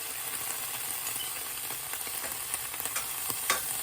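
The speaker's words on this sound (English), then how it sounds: "My pan was already getting hot. So you just want to add your butter." Butter sizzling and crackling in a hot pan for shrimp scampi, a steady close frying hiss with small pops growing slightly livelier toward the end, with no voices.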